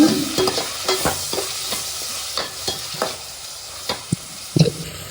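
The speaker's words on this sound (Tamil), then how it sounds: "அதுக்கப்புறம் நல்லா வதக்கிக்கோங்க" Small onions and garlic sauté in sesame oil for a wedding-style karaikuzhambu, with a steady low sizzle broken by repeated spatula scrapes and stirring knocks close up, and no voices.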